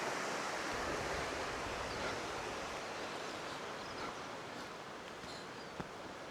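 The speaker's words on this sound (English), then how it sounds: "apart from the sound of the river and the bird song." A Scottish river flows steadily somewhere below a roadside path, a broad, soft, continuous rush with no talk and only faint tiny chirps.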